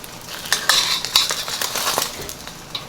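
A thin egg pancake being flipped in a pan, heard as a few close clinks and scrapes of utensil against pan, quick and light, with no talking.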